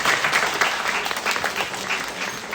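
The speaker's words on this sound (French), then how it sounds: "Merci beaucoup, on peut les applaudir." Applause from a conference audience, a loud, close burst of steady clapping that fills the whole moment without any speech.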